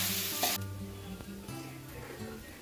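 Soaked sabudana (tapioca pearls) goes into a hot pan for home-style sabudana khichdi, with a brief loud hiss as it lands, then a softer sizzle and light stirring scrapes.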